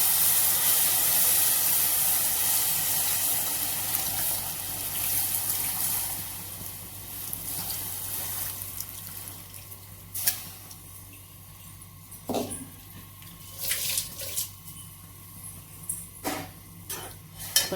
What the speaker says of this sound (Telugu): ఇప్పుడైతే రసం పోస్తున్నా ఫ్రెండ్స్